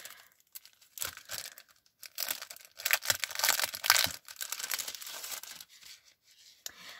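Mail being opened by hand, paper and packaging crinkling and tearing in short bursts and steady rustles, close and fairly quiet, with pauses between handfuls; the envelope holds a handmade shaker card decorated with tulle.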